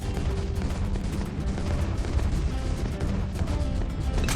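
A heavy barrage of explosions in Bloons TD 6 booms and crackles continuously, dense overlapping blasts filling the whole stretch with no pause.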